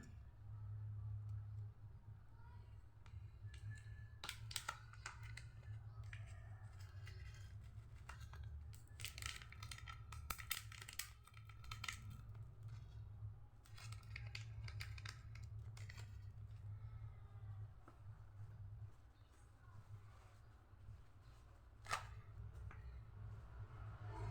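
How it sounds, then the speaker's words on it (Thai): Plastic bags crinkle and rustle in repeated bursts as an amulet package of a first-edition Luang Pu On coin is wrapped in several layers, with a steady low hum underneath. "ใส่ถุงกอบแก๊บครับผม หลายชั้นครับ ต้องห่อหลายชั้น"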